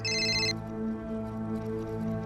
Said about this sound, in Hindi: लो, उसी का फोन है।